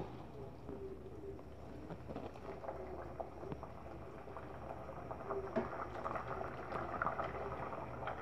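Chamcham sweets bubble in syrup in a pot, a soft continuous boiling with faint popping and patter that grows slightly busier toward the end, heard quietly and alone.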